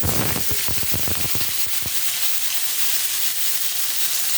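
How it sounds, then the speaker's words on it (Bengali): Finely sliced onion hitting hot oil in a pan, an initial burst of crackling sizzle with a few sharp pops in the first two seconds, then settling into a steady, continuous frying hiss. "এবার পেঁয়াজটা লাল করে ভেজে নিই"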